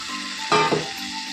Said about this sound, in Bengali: যে চিকেনটাকে ভেজে রেখে দিয়েছিলাম সেই চিকেনটা আমি এর মধ্যে দিয়ে দেবো চিকেনটা দিয়ে একটু কষাবো